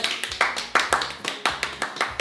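Steady, rhythmic hand claps, evenly spaced and fairly close, welcome Burak onto a cooking competition show, with no talking over them.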